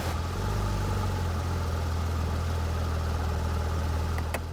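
A stock Porsche GT3 RS engine idles with a loud, steady, deep drone that holds evenly throughout, close by and with no talking.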